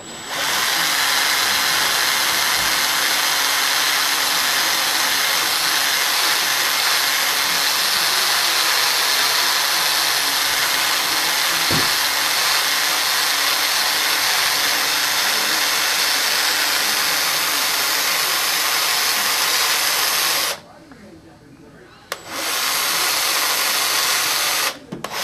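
A small power drill runs steadily for about twenty seconds, enlarging the hole in a cracked plastic toy gear, a continuous high whine that cuts out briefly near the end before starting again.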